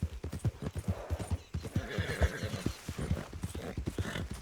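Horse galloping in a video game, a rapid, even run of near, loud hoofbeats with a whinny blended in partway through.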